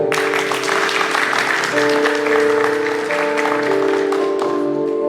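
Guests at a combined civil and religious wedding ceremony in Évreux clap in sustained, dense applause that fills the hall, with a steady tonal hum underneath.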